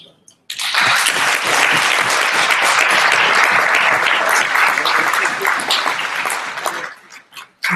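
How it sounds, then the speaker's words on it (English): A conference audience at a social enterprise summit in Jamaica breaks into loud, sustained applause that holds steady for about six seconds before tapering off, then briefly resumes at the end. "Another round of applause for her, please."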